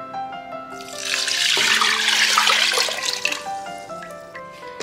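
Third extract of coconut milk pours into a pressure cooker of rice for unakkalari payasam, a steady loud splashing stream that swells, holds for a few seconds, then tapers off over faint background tones.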